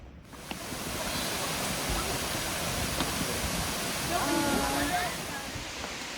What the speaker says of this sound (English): It's a cascade falls